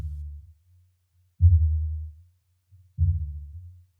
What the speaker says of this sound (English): what you hear now is the detection circuit